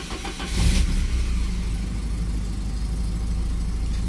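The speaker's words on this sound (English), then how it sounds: "This is going to be a cold start, just to show the tach's working." A Porsche 944 with a MicroSquirt engine management setup makes a cold start, a brief crank catching into a loud, steady low idle rumble that holds close and constant.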